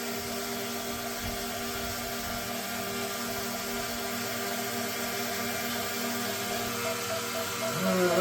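A DJI Mini 5 Pro drone taking off indoors near a wall, its propellers giving a steady high whine that rises in pitch toward the end, with voices talking over it.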